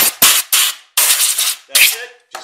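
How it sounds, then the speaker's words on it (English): Short bursts of compressed air blowing wood sawdust out of a Milwaukee router during CNC brush replacement, several sharp hissing blasts in quick succession separated by brief silences, close and loud. "give it a quick little shot of air"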